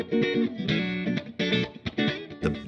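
Electric guitar through a Laney GHR amplifier with power amp distortion, chunky saturated chords and short riffs played loud and close, with brief choppy stops between phrases and no voices.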